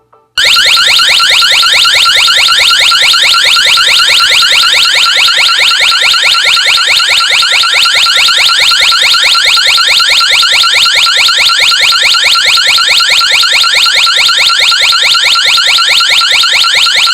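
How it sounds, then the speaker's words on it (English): A Ring Alarm home security siren blares suddenly at over 100 decibels after a motion sensor trips, a harsh pulsing electronic buzz that repeats rapidly and continues unbroken. "Okay, the alarm is gonna sound. The motion sensor was tripped."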